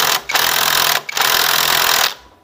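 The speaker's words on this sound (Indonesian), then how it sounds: "Kita kencangkan pakai sak 17" A 17 mm socket wrench tightens a bolt on a Supra X 125 motorcycle during a cam chain replacement, giving two bursts of rapid, steady ratcheting clicks close by with a brief pause between them and no talking.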